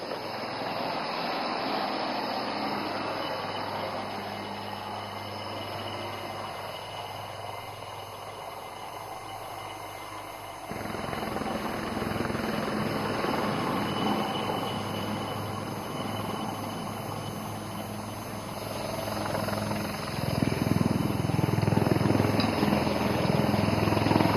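Military helicopters fly a rescue display at an IAF air show in Moran, their continuous rotor and engine drone holding steady before swelling louder as they come closer.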